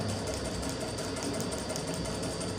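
A sewing machine running a half-foot stitch during a tailoring class, its needle mechanism whirring in a fast, steady mechanical rhythm at close range with no pauses.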